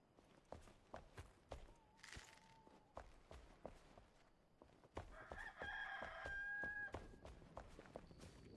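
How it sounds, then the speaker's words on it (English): A rooster crows clearly in the survival game Enshrouded, its long call rising midway through, surrounded by repeated footstep thuds and scattered in-game clicks and clucks at moderate volume. "Heard the rooster call."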